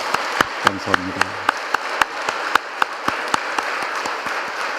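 Congregation at a Sunday morning church service breaks into rhythmic, evenly spaced clapping that carries on steadily, with a brief spoken voice near the start over the claps.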